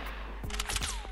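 Gunfire in Fortnite Battle Royale, a burst of several sharp shots crackling close together over a steady game background, with no voices.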